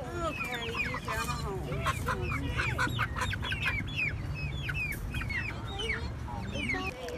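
A newly bought chicken, carried home in a box, clucks and squawks repeatedly and close by in a busy, fairly loud run of short calls.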